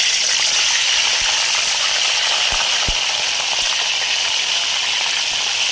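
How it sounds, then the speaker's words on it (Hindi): Chicken frying in about a cup of hot oil in a kadai, a loud, steady sizzle that fills the clip, with a few faint clicks and no talking. "इधर कढ़ाई में हमने 1 कप ऑयल डाल लिया है, तो चिकन डाल देंगे इसमें"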